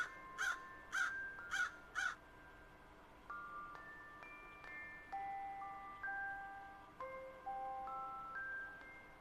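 A crow caws four times in quick, even succession, loud and close, followed by a series of soft tinkling melodic tones.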